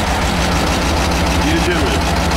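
An Ursus C tractor idling at about 800 rpm: a steady, loud, continuous low engine rumble that stays level throughout, heard close up.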